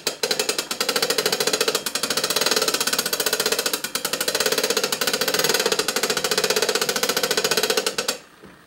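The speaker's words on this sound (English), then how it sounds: "I'm going to wind it up here." A Paillard Swiss clockwork fan from around 1902 is wound by hand, giving a rapid, even ratcheting clatter, loud and close, that runs steadily for several seconds before stopping abruptly.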